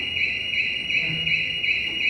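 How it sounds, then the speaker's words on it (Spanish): A school alarm rings continuously during a robotics class, a steady high-pitched electronic tone pulsing slightly and filling the room with no talk over it. "Pues nada más vamos a esperar a que caiga la alarma."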